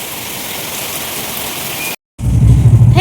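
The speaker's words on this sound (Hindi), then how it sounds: "और लगातार ऐसे ही बारिश हो रहा है लगातार" Heavy rain pours continuously, a dense, loud hiss of drops on surfaces, then cuts out briefly before returning with a rumbling, traffic-like low roar beneath.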